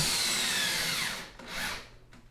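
A power drill driving 2-inch screws into a wooden dance pad frame, a close whining motor run with pitch falling as the screw seats, then short follow-up bursts.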